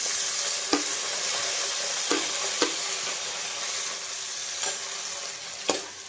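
Onions, garlic and curry leaves sizzle steadily in oil in a pan for bitter gourd pulusu, with a ladle knocking and scraping the pan about five times at uneven intervals.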